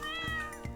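A video game cat lets out one short, clear meow up close, alone with no talk over it.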